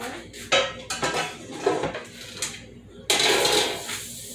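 A metal pan clatters and clanks in a kitchen while quesadillas are being finished, with a series of sharp knocks and scrapes and one loud clatter near the end, close up and with no talk.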